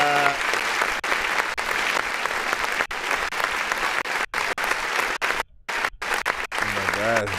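Applause sound effect on a livestream, glitching with abrupt dropouts and stutters, a steady dense clapping wash repeatedly cut by brief silent gaps, with tonal music-like bits at start and end.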